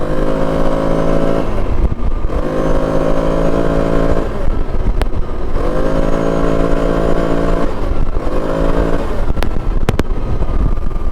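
2025 CFORCE 1000 Overland ATV engine while riding, with a loud onboard drone that rises and falls through repeated throttle cycles, steady and close throughout.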